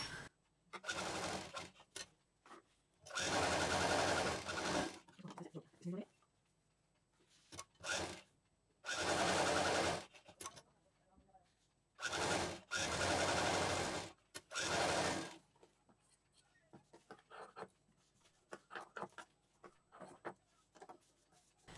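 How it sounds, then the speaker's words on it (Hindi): Sewing machine stitching a handmade fabric handbag, running in several loud bursts of one to three seconds separated by quiet pauses with faint handling clicks, no talk. "इसको मोड़ते हुए बराबर से यहाँ पर सिल देंगे।"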